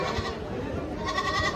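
A goat bleats loudly and close by in a wavering cry at a livestock market in Ajmer, repeated across the short stretch with no talking.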